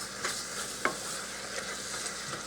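Hamburger meat browning in a pan, a soft continuous sizzle with a few light scrapes of a spatula, close but fairly quiet.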